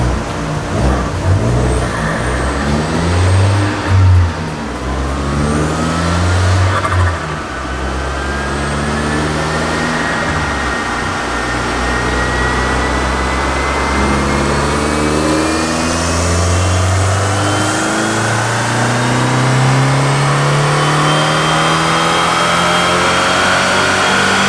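An Abarth 500 with a downpipe and a new intake runs on a dyno, the engine loud and close as it climbs steadily through the revs in a long pull, with rising harmonic whine and brief shifts along the way.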